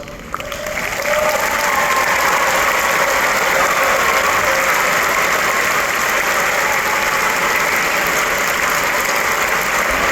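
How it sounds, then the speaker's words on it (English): Sustained applause from a large commencement crowd as first-generation college graduates stand, rising quickly and holding a dense, steady roar of clapping throughout. "Will all first-generation college graduates please stand for a special round of applause?"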